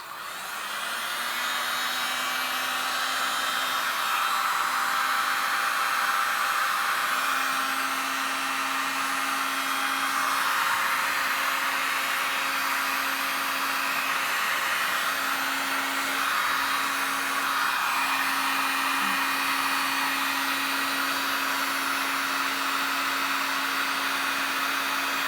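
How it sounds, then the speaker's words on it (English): A heat gun blows on heat shrink tubing at a third-hand soldering aid, a steady loud close whooshing roar with a constant whine running unbroken for about 25 seconds, no talking. "So here we go with the heat gun."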